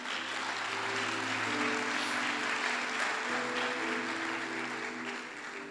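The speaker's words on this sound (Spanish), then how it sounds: "Dale un aplauso al Señor." A church congregation applauds during a sermon, with steady, continuous clapping filling the room at an even level while sustained instrumental music plays underneath throughout.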